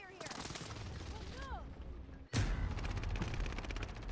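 Heavy gunfire in a video game battle, rapid automatic shots rattling continuously under whistling sounds, with a sharp break and then a louder, denser barrage of fire.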